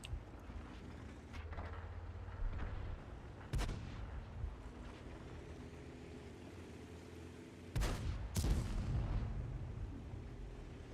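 Crusader SP self-propelled gun firing in a video game, three heavy booming shots over a constant engine rumble, the first alone and the last two in quick succession, loud and close.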